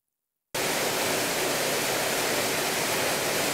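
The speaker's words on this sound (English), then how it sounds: "These slow motion sections highlighting the strong turbulence of the breaking roller" Turbulent water churns in the breaking roller of a hydraulic jump in a horizontal rectangular channel, a steady, loud broadband rush with spray and splashing that starts abruptly after a brief silence and continues without pause.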